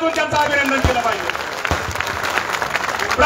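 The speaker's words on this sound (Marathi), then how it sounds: "त्या महिलांसाठी प्रथमतः आपण सर्वांनी एकदा टाळ्या वाजवून त्यांचं अभिनंदन केलं पाहिजे." An audience at a victory rally for a three-time Indapur legislator bursts into dense, steady applause, many hands clapping close and loud for a few seconds, with a voice over the PA at the start.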